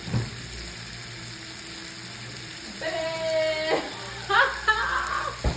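Sausage sizzling in a hot pan while cooking chicken Alfredo, a steady soft frying hiss that grows a little louder partway through, with brief clinks and stirring noises near the end.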